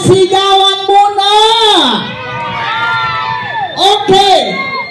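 A crowd packed around the Diwata Pares eatery in Calamba, Laguna, lets out a loud, sustained shout and cheer, with strong raised voices swelling, dipping briefly, then surging again near the end.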